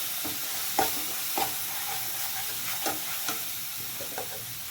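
Fish with chili, cumin and turmeric powders sizzles in a pan, a gentle continuous fry punctuated by about six distinct spatula scrapes and taps as it is stirred.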